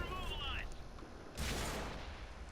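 A tank cannon booms once partway through a World of Tanks battle, a heavy blast from an SU-5 that rings out over rumbling engine and ambient noise after a brief whistling tone.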